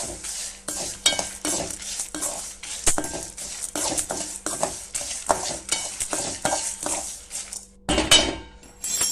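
Steady scraping and stirring of a metal spoon in a pan while ingredients for drumstick-leaf idli podi dry-roast on a stovetop, with frequent clinks against the pan and a faint sizzle throughout, and no talking.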